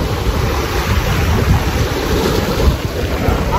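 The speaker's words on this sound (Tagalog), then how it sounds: "May onting falls din pala dito." A small waterfall in a cave area at Dingalan, Aurora, produces a steady rushing wash of water, with gusty wind buffeting the microphone throughout.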